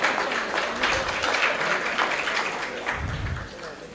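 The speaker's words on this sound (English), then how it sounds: "Let's give him a round of applause to Eric." Audience at a community foundation event giving a round of applause, moderate clapping heard under and around a speaking voice.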